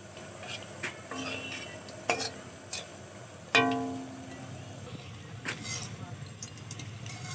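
Puffed-rice sweets fry gently in oil while a utensil stirs them, a low continuous sizzle broken by occasional sharp clinks of metal against the pan, with a voice talking faintly.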